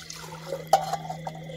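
Water poured from a small measuring container into a titanium camping cook pot at a mountain truck-tent campsite, a soft brief trickle and splash with a faint steady hum underneath, fairly quiet and close.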